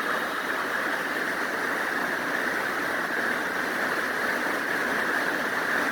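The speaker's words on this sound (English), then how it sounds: "Getting a lot of heavy rain down here in Rockwood, Tennessee in the valley" Heavy rain pours down in the valley at Rockwood, Tennessee, a dense, even hiss that holds steady and unbroken from start to finish.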